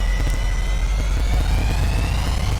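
Boeing C-17 Globemaster III jet engines in a video game spool up with a loud, dense roar, thin high tones rising steadily in pitch over a heavy low rumble.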